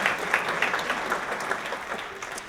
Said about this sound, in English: we really appreciate the applause